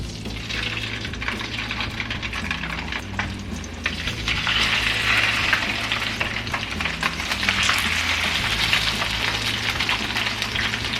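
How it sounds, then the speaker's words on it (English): Salmon fillets frying in olive oil in a pan give a loud, continuous sizzle up close, crackling brighter partway through as the fish settles in, with no talking. "Alright, so we're just gonna add the salmon now."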